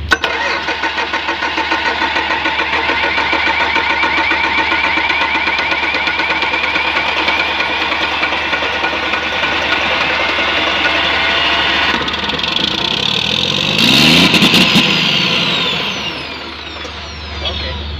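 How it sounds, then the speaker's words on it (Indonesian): A Komatsu PC400-8R excavator diesel engine runs on an engine stand, a loud, steady, close drone lasting most of the clip before it slows and fades near the end. "Setelah itu kita hidupkan untuk startingnya."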